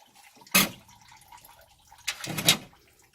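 Water from a radiator just pulled from a 351 engine splashes down in two short bursts, close up, with quiet dripping in between.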